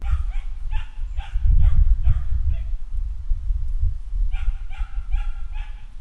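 Young dogs bark repeatedly in short bursts at a search-and-rescue dog training base, loud and fairly close, with yips and whimpers between barks over a low rumbling background.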